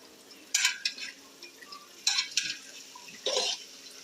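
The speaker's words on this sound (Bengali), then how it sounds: "নাড়াচাড়া করতেছি যাতে জগের মধ্যে না লেগে যায়।" A spoon scrapes and stirs chicken biryani in a pot, three short clattering bursts separated by near-quiet pauses, close and fairly clear.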